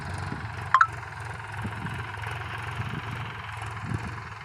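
A tractor engine idles at low volume with a steady, low chugging rumble and one brief clatter early on.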